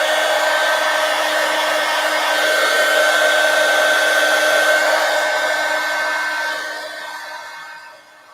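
Hair dryer blowing steadily and close to dry glue on a paper-collaged pumpkin, a continuous loud whoosh with a steady whine that fades slightly near the end.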